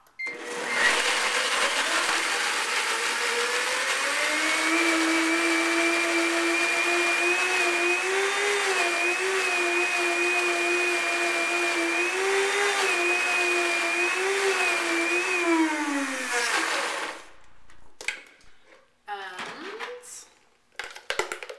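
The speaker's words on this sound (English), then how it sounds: "I'm just going to blend that up." A blender roars continuously at high speed blending acai berries and fruit for about seventeen seconds, its pitch wavering slightly, then stops and is followed by some clatter.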